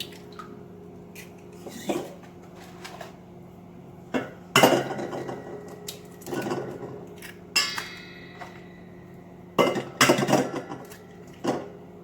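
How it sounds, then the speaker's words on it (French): Five eggs are cracked one by one into a mixing bowl for a chocolate cake, with sharp taps and clinks spaced a second or two apart and soft drips between, close and clear in a quiet kitchen. "tu casses les 5 œufs dans un saladier"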